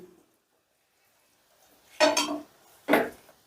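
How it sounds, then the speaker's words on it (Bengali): Fried rice being gently mixed with ghee in a pan, two short scraping clinks of a spoon against the pan after a quiet stretch. "এবারে সমস্তটা আমি আবারও বেশ ভালো করে আলতো হাতে মিশিয়ে নিচ্ছি"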